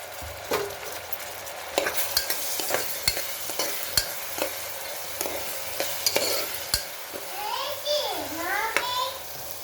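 Chopped onions fry in a pan for boti curry, with a steady sizzle broken by frequent spatula scrapes and stirs near the microphone, while a voice chatters in the background.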